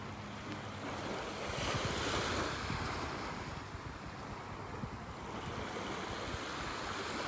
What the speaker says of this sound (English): listening to the little waves lapping